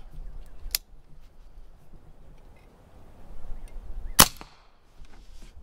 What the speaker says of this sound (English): let's see where we're at after this 10th shot